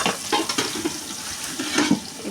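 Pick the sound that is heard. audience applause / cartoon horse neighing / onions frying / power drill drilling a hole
onions frying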